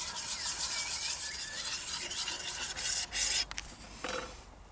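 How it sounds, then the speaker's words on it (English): A tool's back is flattened on a sharpening stone with a steady, close abrasive rasping of repeated rubbing strokes, which stops near the end and gives way to a few lighter scrapes. "So as I flatten the back, what I want to be seeing is the scratch pattern from the stone"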